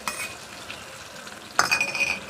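Onion for poha fries in a pan with a quiet sizzle, then a sharp metal clink and a louder stirring scrape follow near the end, without any talking.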